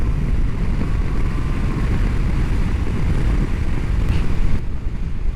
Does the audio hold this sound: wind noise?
yes